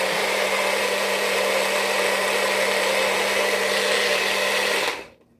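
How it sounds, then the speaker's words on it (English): A blender whirs at a steady high-pitched roar for several seconds, then spins down and stops. "And I didn't need that big blender after all,"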